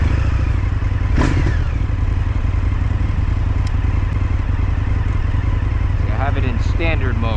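A 2023 Indian FTR S motorcycle being ridden, its engine a loud, continuous low rumble with constant wind and road noise close to the rider, a brief clatter early on.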